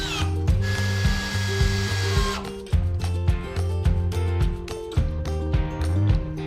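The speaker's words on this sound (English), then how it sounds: "Join the parts together by drilling holes and screwing them together" A power drill whirs close by, its motor whine rising and dipping in short repeated bursts as it bores into wood.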